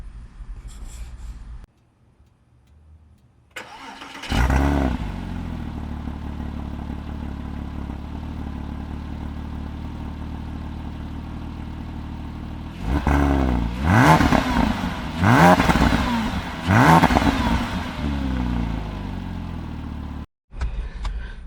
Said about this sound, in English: before you go anywhere, of course, we got to go with the cold start.